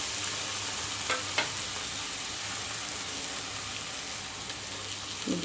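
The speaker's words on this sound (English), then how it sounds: "So now I am adding fried potatoes" Fried potatoes sizzle steadily in a pan for aloo matar curry, a constant close crackling hiss with a few faint clinks and no talking.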